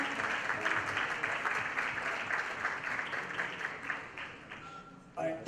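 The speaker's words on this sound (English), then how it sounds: "Big round of applause, ladies and gentlemen." A crowd at a charity fundraising evening applauds steadily with dense, sustained clapping throughout, and a voice is briefly audible near the end.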